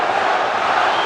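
A packed boxing arena crowd at Holyfield vs Tyson keeps up a loud, unbroken roar of yelling, a brief dense burst of massed voices with no single shout distinguishable.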